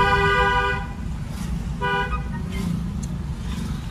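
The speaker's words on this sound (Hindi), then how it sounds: "लॉन्ग हॉर्न पुश करिए क्योंकि यहाँ टर्निंग पॉइंट है।" On a road at a turning point, a car horn sounds twice, close and loud: a long blast of almost a second, then a shorter one after a pause, over a steady engine and road rumble.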